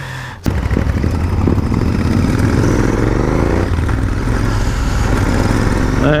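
Motorcycle ride on a road to a hidden, undeveloped turtle-nesting beach in Goa: a loud, steady engine drone starts after a brief pause and carries continuously, with rumbling wind and road noise and no talk.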